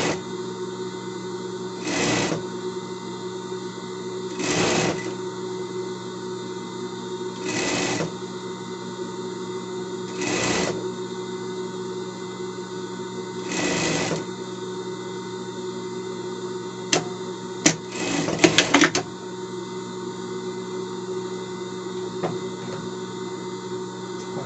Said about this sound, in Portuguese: passar uma costura de segurança embaixo, pra gente pregar no nosso fundo